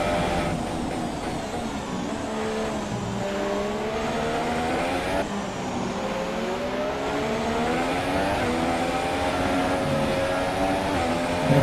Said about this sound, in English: I'm going to bring the car across the line to start the final lap